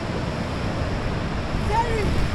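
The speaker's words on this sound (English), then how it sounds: "It's windy!" Strong wind gusting at the Zambezi waterfall, a steady broadband roar of wind buffeting the microphone blended with distant falling water, constant and loud throughout with no speech.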